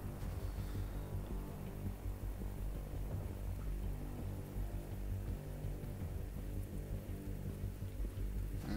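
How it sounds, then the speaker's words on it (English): Heavy rain falling in the video game Freeman Guerrilla Warfare, a soft, steady hiss of rainfall with a low hum beneath, faint and continuous with no talking. "Still pissing it down with rain."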